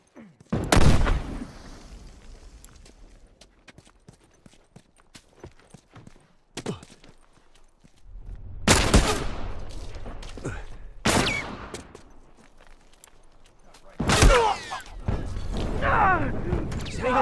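Rifle fire in a Last of Us Factions multiplayer match: several loud, sharp shots in separate bursts spread across the stretch, with quieter mechanical clatter and footsteps between them and a voice speaking briefly.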